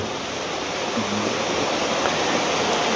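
Steady, dense rush of a stream flowing beside a campsite at Pook ni Maria Makiling, continuous broadband water noise close by with no voices, constant level throughout.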